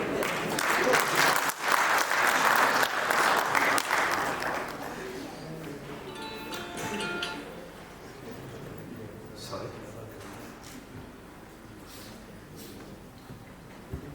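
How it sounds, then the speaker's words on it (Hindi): An audience in a cold auditorium claps during a Vice Chancellor's New Year address. The applause is strong for about four seconds, then thins out, and a speaker talks as scattered claps and room noise linger. "इसलिए तालियां बजाते रहिएगा।"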